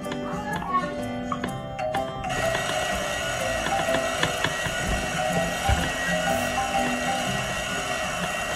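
A blender in the cooking game Boffo's Breakfast starts after a short tonal intro, settling into a steady mechanical whirring drone with light rattling ticks, and a voice talks over it.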